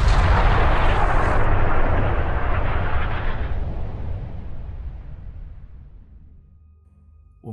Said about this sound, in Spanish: se oía el estruendo del disparo de un